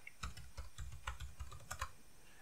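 Typing on a computer keyboard to enter a Wi-Fi password, a quick run of crisp key clicks at a steady pace, close and clear, with no voices.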